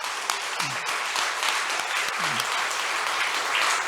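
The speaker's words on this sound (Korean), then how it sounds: "박수 좀 보내주시기 바랍니다." A church congregation claps together in a sustained, even patter of applause, fairly close, with no speech over it for nearly four seconds.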